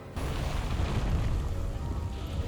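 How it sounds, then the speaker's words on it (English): Mega Barrel Bombs explode in Monster Hunter World: Iceborne during the Fatalis cannon opener, a loud sustained deep boom that starts abruptly and rolls on heavily without pause. "You want to wait for it to start worming over before you move, so its head hits the Mega Barrel Bombs."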